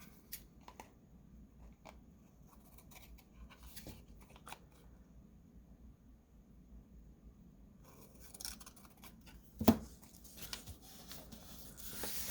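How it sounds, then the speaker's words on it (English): Scissors trimming a piece of paper for a junk journal, a few quiet scattered snips and rustles close by in a hushed room, with a louder handling crunch near the end. "Let's trim you up."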